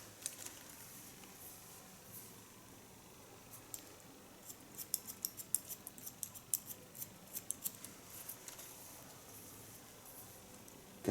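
Scissors point-cutting hair in a salon, a run of quick crisp snips that starts about halfway through, faint and close against a soft background hiss.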